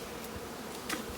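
Honey bees loose inside a screened package cage give a steady, close, continuous buzzing drone with no other sounds.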